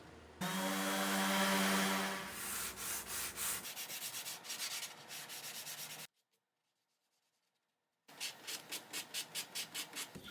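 Power sanding along the edges of a wooden desk from the 1800s, being restored: a loud steady sander whine, then rhythmic rubbing strokes, a two-second silence, and a fresh run of regular back-and-forth sanding passes.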